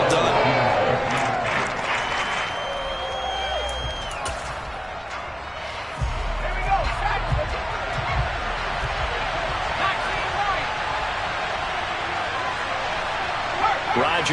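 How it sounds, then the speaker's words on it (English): Stadium crowd at a Chicago versus Tampa Bay football game applauds and cheers the defense, a broad steady roar lasting throughout and sitting beneath a commentator's continuous talk. "How about some applause for the defense there?"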